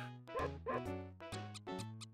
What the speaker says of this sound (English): A doggo barking.